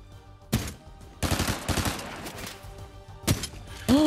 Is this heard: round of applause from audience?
no